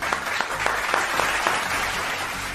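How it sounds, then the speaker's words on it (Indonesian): A talk-show audience gives lively applause for a guest speaker, Ibu Dian, a continuous wash of clapping with a few sharper claps standing out near the start. "Boleh tepuk tangan yang meriah untuk narasumber saya yang satu ini"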